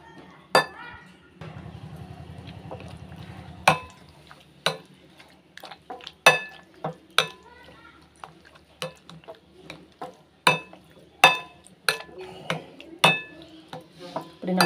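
A spoon mashes diced mango in a bowl for mango payasam, with sharp clinks and taps against the bowl at an irregular pace, close and fairly loud, after a brief low steady rumble near the start.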